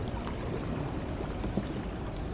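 Canoe paddling through whitewater, with a steady broadband rush of churning water throughout and soft splashing paddle strokes blended into it, no clear individual stroke rhythm standing out.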